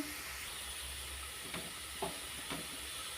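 Carrot curry with ginger and turmeric sizzles steadily in a pan while a few soft stirring scrapes cut through the hiss at intervals, heard close with no talking.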